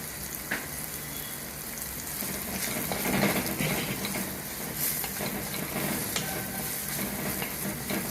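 Masala and guava pieces fry and are stirred in a pan, a steady close sizzle with scraping stir sounds running throughout and no talking.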